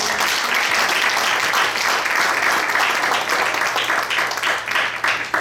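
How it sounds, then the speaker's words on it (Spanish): Loud, dense applause from a church congregation clapping for the Lord, sustained and even across the whole stretch with no voices over it. "Denle un aplauso al Señor"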